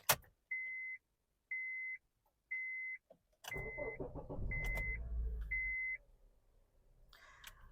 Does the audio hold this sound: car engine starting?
yes